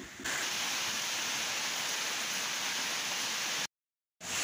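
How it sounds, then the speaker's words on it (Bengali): Rain falls in a steady, dense hiss, close and even, cutting to silence briefly near the end before resuming. "এখন বৃষ্টি হচ্ছে"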